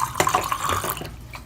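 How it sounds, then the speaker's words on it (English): Vinegar pours down a bathroom sink drain in a steady trickling, gurgling stream, close and fairly loud, tapering off toward the end with no voices. "Just pouring the vinegar down there as well."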